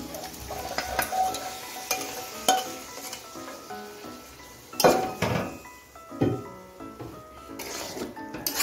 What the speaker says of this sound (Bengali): মটরশুঁটিগুলো দিয়ে দিচ্ছি, দিয়ে মটরশুঁটিগুলো সবজির সঙ্গে ভেজে নিচ্ছি